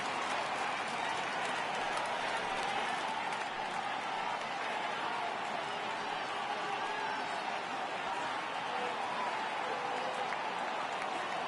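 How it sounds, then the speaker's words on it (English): Crowd noise from a baseball stadium in MLB The Show 18 rises as fans get up for a full 3-2 count, a steady broad roar throughout with a commentator talking over it. "Crowd gets up for the 3-2."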